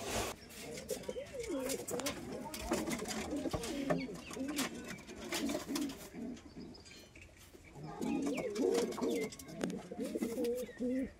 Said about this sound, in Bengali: এই দাদার কাছে বেশি পায়রা নেই, বাট যে কটা আছে সব কটাই ভালো ভালো কালেকশন।